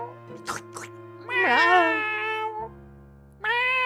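A cat in the video game Shadow of Memories gives two clear, close meows, one drawn out and rising then falling, over a low steady background hum.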